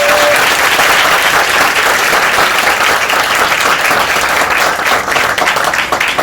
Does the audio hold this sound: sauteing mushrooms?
no